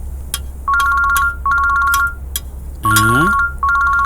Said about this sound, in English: Why is Meena calling at this time